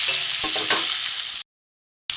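Long-cut potato strips fry in mustard oil with a loud, even sizzle and a few light stirring scrapes early on. The sound cuts to silence briefly, then the sizzle returns.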